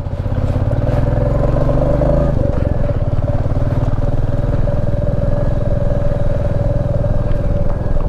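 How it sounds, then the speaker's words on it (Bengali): Motorcycle on a mountain road between Haridwar and Sonprayag, its engine droning loud and close throughout with a brief shift in tone, while rough clattering from the tyres and road surface runs underneath. "চাকা স্কিড করছে কিরকম"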